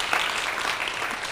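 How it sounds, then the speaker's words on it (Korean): A church congregation at a pastors' seminar breaks into dense, steady clapping, a broad wash of many hands applauding together without a break. "우리 주님께 먼저 박수 드리겠어요"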